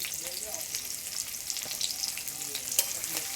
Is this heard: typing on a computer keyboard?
no